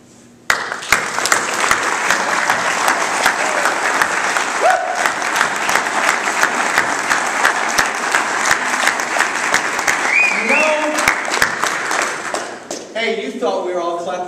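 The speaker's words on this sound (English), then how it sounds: "you thought we were all clapping for you" An audience at a political town hall meeting claps for military veterans, bursting into loud, sustained applause that runs for over ten seconds before easing off as a voice begins speaking.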